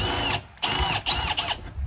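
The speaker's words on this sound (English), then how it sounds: "I just want to drill through the metal so where I can get a screw through there" Close, high-pitched whine of a power drill biting through metal on a garage man door entry, running in several short bursts with brief pauses between.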